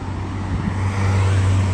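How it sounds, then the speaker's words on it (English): A car passes on a road beside Corniche Park in Abu Dhabi, a steady engine and tyre hum that swells slightly as it nears, loud and continuous with no talking. "some car is crossing."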